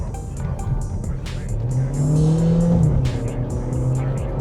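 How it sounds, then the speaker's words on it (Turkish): A 2025 Cupra Formentor 1.5 e-Hybrid car engine rises in pitch as it revs up, holds a strong drone, then eases off, with background noise throughout. "Motorun sesi de çok iyi."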